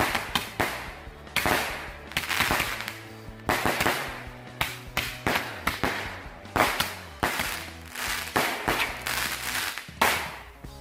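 Many firecrackers set off for Lebaran burst in rapid, irregular succession, with sharp loud cracks and pops crowding together, some in quick clusters and others spaced apart, close by.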